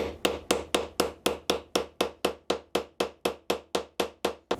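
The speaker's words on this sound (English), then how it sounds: "take your hammer and you want to go around the outside rim of this wood and smush it down" Hammer tapping around the wooden top of a new Japanese chisel, about sixteen sharp, evenly spaced knocks in a steady rhythm, close and alone.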